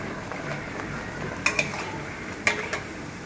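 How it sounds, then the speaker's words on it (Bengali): Paratha fries in hot oil with a low steady sizzle, broken by a few sharp clinks and scrapes of a spatula against the pan. "ভাজা চলছে। একটা পিঠ একটু একটু করে তুলছে আর ভাজা কমপ্লিট হচ্ছে।"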